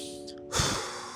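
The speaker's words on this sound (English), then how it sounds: "And breathe." A single audible breath, a soft sigh-like exhale during a beginner stretching exercise with forehead to knee, close and alone over faint background tone.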